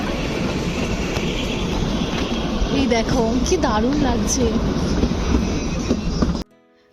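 The Kalka–Shimla toy train runs through the Shivalik hills of Himachal Pradesh with a steady rolling rumble and some wheel squeal. A person talks over it, and the sound cuts off abruptly near the end.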